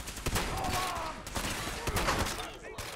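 A shotgun fires in Fallout 4, with several sharp blasts spaced across a few seconds over a low game background.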